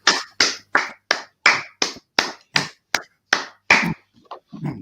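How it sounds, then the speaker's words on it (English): Sharp single claps ring out in a slow, regular rhythm, about a dozen loud strikes spaced evenly, then softer scattered hits trail off at the end. "Clap it up."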